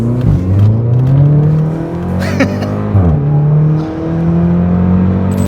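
A modified stage one tuned Volkswagen Polo GTI revs hard and close, the engine note climbing in pitch, dropping sharply around the three-second mark, then rising again, loud throughout.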